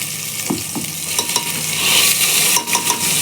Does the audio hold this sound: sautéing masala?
yes